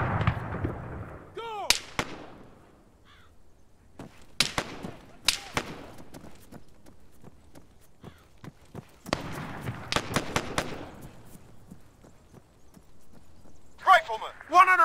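Gunfire from the combat game Arma 3 comes as scattered sharp broadband reports, some single and some in short bursts, spread across the stretch, with radio-style shouted commands over the top.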